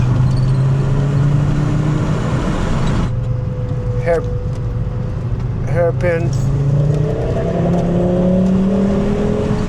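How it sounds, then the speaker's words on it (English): A Volvo 850 GLT's five-cylinder engine hums steadily while driving, rising and falling in pitch with shifts and acceleration, cabin drone loud and close, with someone speaking briefly over it. "It is a 5-cylinder engine that sounds kind of like an"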